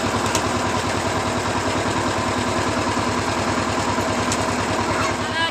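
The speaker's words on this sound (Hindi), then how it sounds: "अब ट्रैक्टर फिर से स्टार्ट कर दी है" A small tractor engine idles steadily after being restarted, close and loud, a continuous rapid chugging throb with no pauses.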